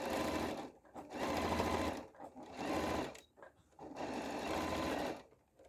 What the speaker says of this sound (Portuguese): E vou fazer uma costura um pé de máquina com retrocesso no começo e no final.